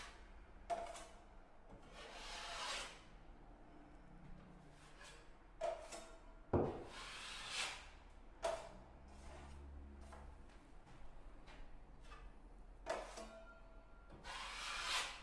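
A putty knife scrapes and rubs drywall mud over screw heads, giving soft, close scraping strokes in irregular bursts with brief knocks and pauses between passes.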